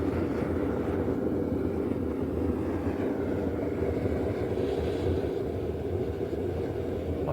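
Steady, dense roar of a waste oil melting furnace burner flame running lean, a continuous loud rushing rumble with no pauses or talking.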